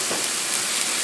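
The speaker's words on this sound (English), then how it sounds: "Fried onions." Close, continuous hiss of onions frying in a pan as Angus burgers cook, an even, rain-like crackle throughout the brief moment.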